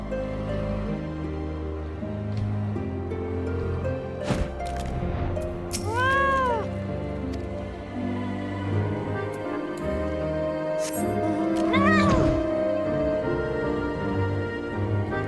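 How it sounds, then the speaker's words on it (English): A cat meows in the Final Fantasy XIV video game, with a few short rising and falling cries standing out over a busy bed of game music and ambient sound. "Here's a kitty cat."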